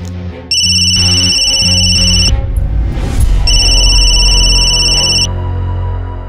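A telephone rings with a steady electronic warble in two long bursts separated by a short gap, loud and close, with a muffled thump in the middle and a low hum underneath.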